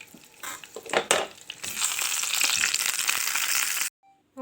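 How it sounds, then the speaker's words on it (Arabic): Stuffed pigeon laid into hot butter and oil in a pan, first a few clattering knocks, then a loud steady sizzle and crackle of frying that stops abruptly near the end. "اول ما الزبده بتاعتنا والزيت يسخن، هنزل بالحمام كده على جنبه"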